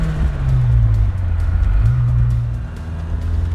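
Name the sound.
1986 Ford RS200 car cruising in neighborhood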